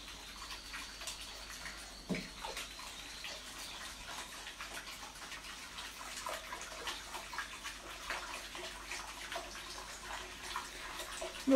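Cold tap water runs steadily while washing up in a home kitchen, a faint, continuous watery rush with small splashes and no talking.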